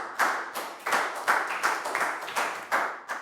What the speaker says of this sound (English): High five and a big round of applause for Pro